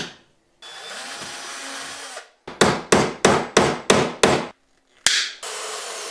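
A hammer drives a nail through a Coke bottle contraption: seven sharp, loud, evenly spaced blows close by, after a stretch of steady whirring noise, then one more strike.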